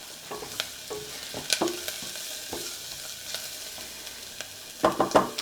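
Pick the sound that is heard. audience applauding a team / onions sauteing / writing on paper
onions sauteing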